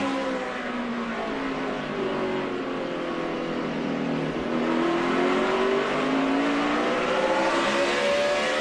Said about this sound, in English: Every time that engine gets to a certain peak, a certain sound, you know it's time to roll out the throttle and ease down in the corner.